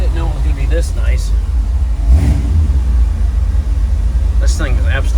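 A 1951 Mercury with a 454 engine starts up and idles with a steady low rumble and a slight rev, close by, while people talk over it.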